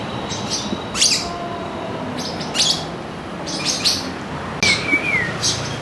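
A pet lovebird gives short, bright chirps and tweets in bursts close by, with a steady background murmur underneath.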